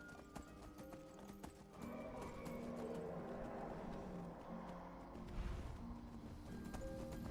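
Rhythmic hoofbeats of a horse galloping in the game Skyrim, a brisk clip-clop running steadily under faint ambient game sound, with a short whinny heard along the way.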